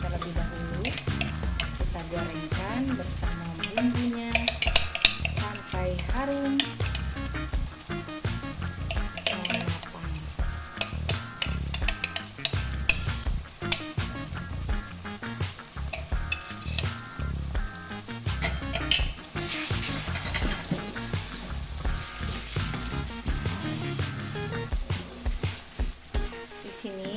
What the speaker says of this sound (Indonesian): Kita gorengkan bersama bumbunya sampai harum